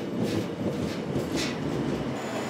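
A Donghae Line passenger train runs on the rails between Pohang and Yeongdeok, a steady loud rumble with faint rhythmic wheel clatter and brief rising hisses, heard from inside or close to the moving train.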